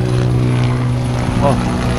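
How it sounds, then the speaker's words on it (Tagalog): A helicopter hovers over a flooded neighborhood in Daang Hari, Navotas, where seawater has spilled over the dike, giving a steady, continuous rotor drone throughout. "helicopter na siguro nagmamasid po sa mga nangyayari dito sa ating lugar"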